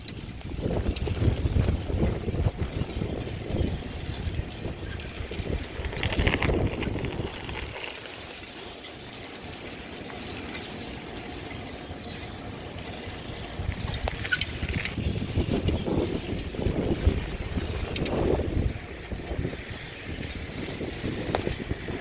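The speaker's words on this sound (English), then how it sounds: "It's pretty windy, but it feels great outside." Steady wind buffets the microphone outdoors, rumbling low and loud with gusts rising and falling throughout, no voices.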